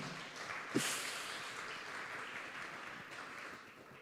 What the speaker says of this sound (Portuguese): Vamos aplaudir a Deus de novo por essa palavra.